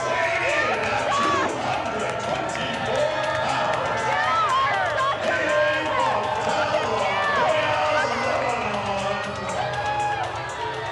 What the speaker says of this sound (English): The crowd reacts as planned. They cheer Dusty, and they heckle the Sheik